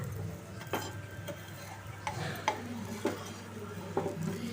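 Burger dosa being flipped on a pan, several light scraping and tapping clinks of a spatula against the metal pan spread over a few seconds, quiet and close with no talking.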